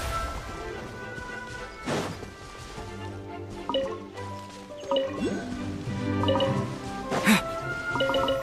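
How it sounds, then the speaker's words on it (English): A water jet attack in Genshin Impact's Fontaine area bursts through a busy mix of splashing, dripping impacts and crashes, with repeated hits and a strong surge near the end, while a voice talks over the game sound. "Water jet!"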